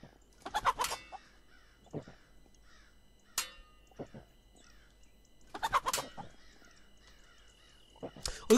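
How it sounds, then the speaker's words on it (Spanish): Several bursts of video game chicken calls, clucks and gobble-like squawks in Pixel Piracy, spaced out over quiet gaps, fairly faint and close. "Oigo gallinas."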